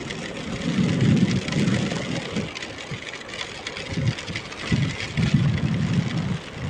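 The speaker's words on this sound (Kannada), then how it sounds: "ಮಳೆಯಲ್ಲಿ ಪಯಣ." Rain falls during a journey near Dharwad, Karnataka, a steady wash of rainfall mixed with a low idling vehicle engine rumble throughout, no talk.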